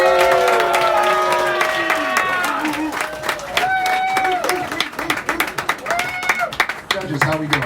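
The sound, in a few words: audience applause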